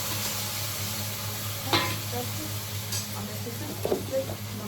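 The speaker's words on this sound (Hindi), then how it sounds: "मैंने टमाटर और हरी मिर्च काट के रखे हुए हैं, मैं इसमें डाल दूँगी तेल में।" Chopped tomatoes and green chillies frying in hot oil, a steady close sizzle with a few stirring clinks and scrapes, no one talking.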